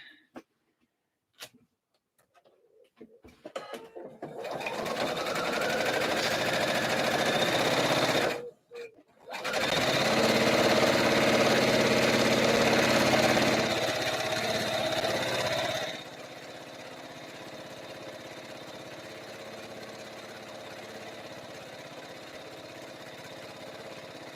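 A sewing machine runs edge stitching on a slip dress, starting after a few clicks, with a steady motor whir that pauses briefly and then resumes. It then stops, leaving a quieter background hum.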